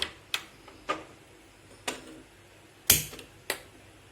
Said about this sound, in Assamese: এতিয়া মই গেছটো অন কৰিম